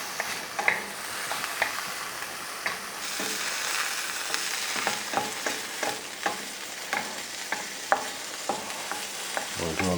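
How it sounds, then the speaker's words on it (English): Oil sizzles in a hot pan over low heat as a utensil spreads it around to grease the pan, a continuous close frying hiss broken by repeated scraping strokes, with no voices. "So I'm spreading it around so I can grease the pan a bit."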